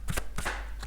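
Tarot cards shuffled by hand to draw one, a few quick riffling bursts close up, brief and crisp.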